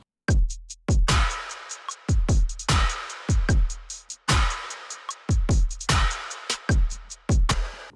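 A punchy programmed drum beat with deep kicks and crisp, reverberant snares in a steady loop, layered hits stacking into a full, loud groove.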